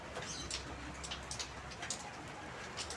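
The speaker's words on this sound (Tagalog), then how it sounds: "Kahit maulan siya guys" Steady rain patters across a dense, hissing wash during an outdoor chicken barbecue grilling session, continuous and close, with a few brief bird chirps rising faintly above it and no voices.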